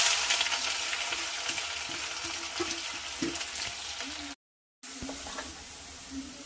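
Onion, garlic and green chilli fry in a pan with a loud, continuous sizzling hiss and occasional stirring clatter, broken by one brief silent dropout before the sizzle resumes.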